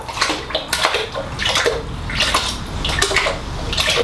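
Spray paint can being dunked and sloshed in a container of warm water, a series of splashy, watery swishes and clinks repeating close up with no talk.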